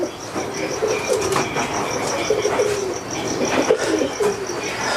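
Pigeons cooing nearby in a loft: soft, repeated throaty coos in a loose rhythm over a low background rumble, with no talk.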